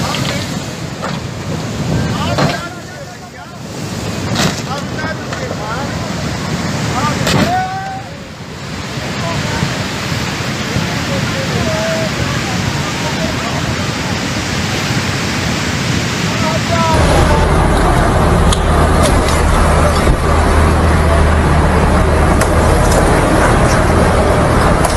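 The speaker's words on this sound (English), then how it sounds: "This bus was swept away by the surging waters of a river, following a heavy downpour in Himachal Pradesh, India." Floodwater from a river surging after heavy rain in Himachal Pradesh, India, sweeps a bus away in a loud, continuous roar of rushing water. Wind buffets the microphone over the torrent, and the sound shifts abruptly partway through.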